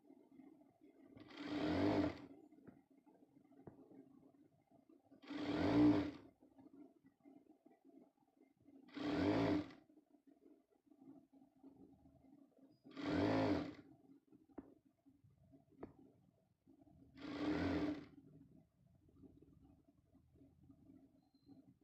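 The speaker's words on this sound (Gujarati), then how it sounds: "આ રીતે સિલાઈ કરતું જવાનું, પછી તો કઈ આમ વાંધો ન આવે, કલી બાય કલી જોડતું રહેવાનું" A sewing machine joins the panels of a flared Navratri chaniya skirt in five short, evenly spaced bursts of whirring, quiet and close, with near silence between them.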